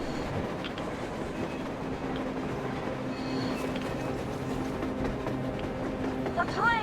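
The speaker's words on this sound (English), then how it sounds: "A train! A damn train on the surface!" A train runs across the surface in Metro Exodus, a steady rumbling clatter with rhythmic clicking under game ambience, at moderate distance throughout.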